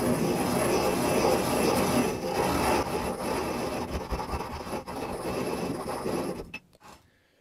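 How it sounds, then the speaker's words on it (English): Non-iodized table salt being ground into a fine powder gives a steady, dense gritty rasping that runs for several seconds, then tapers off and ends in quiet. "we're going to grind it up into as fine a powder as we possibly can"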